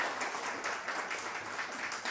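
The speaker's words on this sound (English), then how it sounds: "Round of applause for this beautiful mint." A small group gives a round of applause, a steady patter of clapping with a faint rhythmic pulse that continues evenly for about two seconds without speech.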